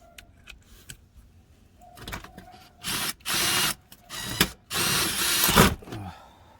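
A power tool removes four bolts on a 2013 Honda CR-V during a headlight replacement, giving several loud whirring bursts of about a second each, separated by quiet gaps and faint handling clicks, close to the listener.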